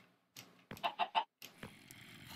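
Chicken clucks from the Minecraft video game, a short cluster of three quick, clear bursts followed by a softer call, close and alone over quiet game ambience.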